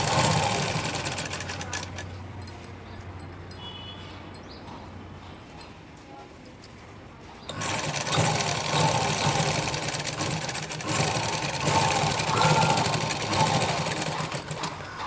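A sewing machine stitches the hem of a Punjabi pant, running in short bursts before a quieter pause and then resuming in a longer, louder steady whir, with no talking.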